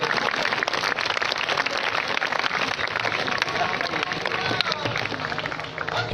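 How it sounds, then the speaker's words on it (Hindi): An audience claps together at a school Eid Milad gathering, a dense, steady wash of applause that holds loud and even for about six seconds, with crowd noise mixed in. "खूब तालियां बजा दें अब्दुल रहमान साहब के लिए बजा दें और इस बच्चे के लिए भी"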